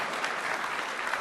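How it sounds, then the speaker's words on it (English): Audience applause at the Build 2014 keynote, a dense, steady clapping from a large crowd filling the short moment. "You can applaud."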